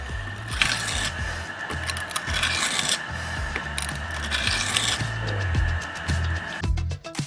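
A kitchen knife edge is drawn repeatedly along an abrasive to even it out before sharpening, giving steady scraping rasps in an uneven rhythm, fairly close and continuous, with no talk.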